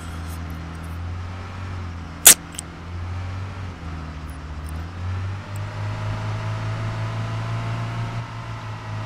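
A car in the video game Arma 3 Altis Life drives with a steady low engine drone that rises in pitch as it speeds up, broken by one sharp high click, with no talk.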